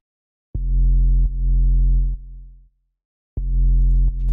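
A deep, 808-style synth bass with tube distortion plays three sustained notes that fall off into decay, then two more notes after a brief silence. The tone is clean and humming with a short release.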